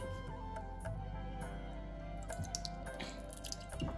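Water runs and drips out through a small hole bored in a large whole coconut, a close, steady wet trickle with irregular droplet spatters throughout.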